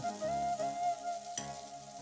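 Chow mein noodles frying in a pan with onion and cabbage, a steady close sizzle with soft stirring scrapes running throughout and no talking.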